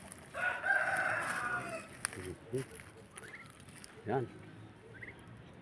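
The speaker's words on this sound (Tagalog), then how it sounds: "Yan po ang ating pabo." Turkeys on a sunny Filipino farm, gobbling and calling in a loud burst near the start, followed by a few shorter calls, with someone talking briefly over them.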